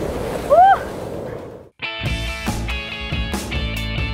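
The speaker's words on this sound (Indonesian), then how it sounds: "Tunggu ombak lagi. Tapi karena ombaknya besar ini bisa ketabrak karang." Large waves breaking near a rocky reef on the south coast of Java, a loud rushing surge with a brief dip, then roaring wash and splashes close by, with a short vocal sound early on.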